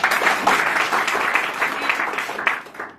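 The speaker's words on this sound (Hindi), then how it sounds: "तो उनके लिए जोरदार ताली बजाइए" Audience applauding at a marketing business meeting in Balotra, India: a dense, continuous wash of clapping from a sizeable crowd, loud and steady before tapering slightly at the end.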